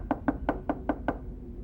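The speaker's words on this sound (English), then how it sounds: "shaken from the close encounter with Hex, knocked timidly" Six light, evenly spaced knocks on a wooden door, soft and hesitant, close by in a quiet room with a faint background hiss.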